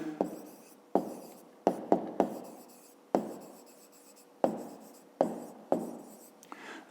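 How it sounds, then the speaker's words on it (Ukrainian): A pen writes out a math answer by hand on paper, in repeated short strokes with sharp taps as the tip meets the page, close and fairly quiet, with no talking. "Пишемо тоді відповідь."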